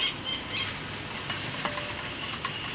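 Vinegar glaze sauce sizzles as spoonfuls are stirred into melted butter for buffalo chicken wings, a steady close hiss with scattered small pops and crackles and no voices.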